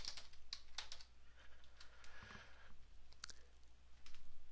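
Someone types a name on a computer keyboard, a quick run of soft, close key clicks in bursts with brief pauses, quiet and without talk.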